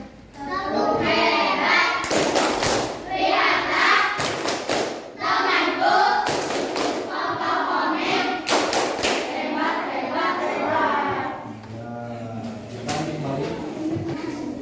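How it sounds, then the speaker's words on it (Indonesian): A classroom of pupils gives the tepuk hebat clap for the Komet group, sharp bursts of rhythmic group clapping in several patterned volleys, with children's and a teacher's voices heard between the bursts. "Silakan tepuk hebat dulu buat kelompok komet."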